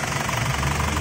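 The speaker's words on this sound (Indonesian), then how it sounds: "ini mesin diesel tapi suaranya kayak mesin bensin" A 1999 Isuzu Panther diesel engine idles up close with a smooth, steady low rumble and a faint regular knock. The tone is even and unbroken for the full second, with no talk over it.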